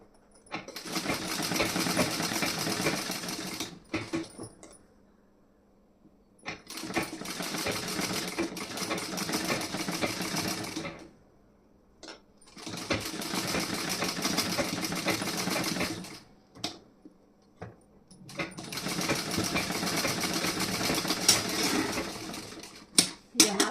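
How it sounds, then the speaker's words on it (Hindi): A sewing machine running basting stitches on fabric, four long steady bursts of rapid mechanical whirring close by, separated by short quiet pauses and small clicks. "यहाँ पे मैं कच्ची सिलाई लगा रही हूँ इस तरीके से।"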